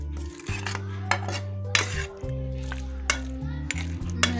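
Beef palak being served from a pot in a home kitchen, with close metal clanks and spoon scrapes against dishes in scattered bursts over a steady low hum, a voice faintly in the background.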